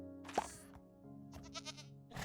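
A baby goat in modded Minecraft bleats in a few short, nasal calls, with a quiet plop and faint game ambience between them.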